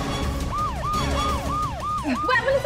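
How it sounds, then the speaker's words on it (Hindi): An ambulance siren wails nearby in a steady rising-and-falling cycle, about six even sweeps in quick succession, loud and close, with a brief vehicle noise and scattered sounds near the end. "वो एम्बुलेंस आ गई"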